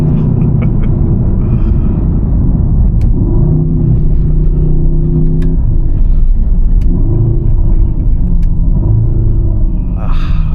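Mercedes-AMG C63 S Coupe (W205) engine while driving, a steady deep rumble with shifting tones as revs rise and fall, loud and continuous throughout with no talk.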